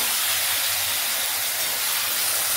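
Masala being sautéed for Bengali chicken curry (murgir lal jhol): a loud, steady, close sizzling hiss that continues unbroken for the whole stretch, with no voices.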